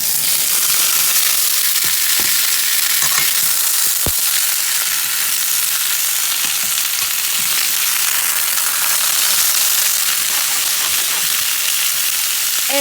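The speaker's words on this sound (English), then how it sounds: "Now that our butter is all melted, it's time to add the potatoes." Potatoes fry in melted butter in a pan, giving a loud, steady sizzle that continues unbroken, with a few faint clinks from stirring.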